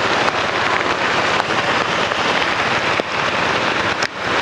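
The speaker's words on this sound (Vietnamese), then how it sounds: "Mưa quá to." Heavy rain pours steadily onto a Saigon street, a dense, unbroken roar that stays loud and close for the whole stretch, with no voices over it.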